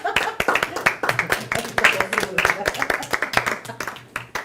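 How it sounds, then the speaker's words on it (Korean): A seminar audience gives a standing ovation, clapping enthusiastically together in a dense run of sharp handclaps sustained for several seconds, with a few voices mixed in underneath. "우리 전우사님 위해서 우리 기립박수 한번 봅시다."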